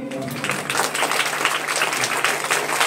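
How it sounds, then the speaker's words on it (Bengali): Audience applause at a school Rabindra Jayanti celebration, a continuous rattle of many hands clapping at moderate loudness, steady through the whole moment. "আরেকবার জোরে করতালির মধ্যে দিয়ে"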